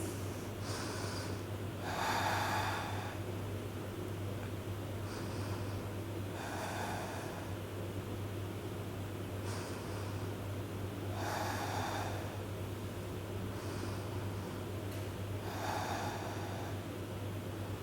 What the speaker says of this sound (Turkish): Beş derin nefes buradayız.